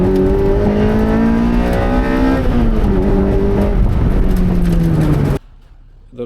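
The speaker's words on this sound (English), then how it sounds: "Exhaust is GP Sports." A Toyota MR2 Spyder with a GP Sports exhaust, a muffler and resonator only, and no catalytic converter idles and revs loudly up and down. The engine note ends abruptly near the end.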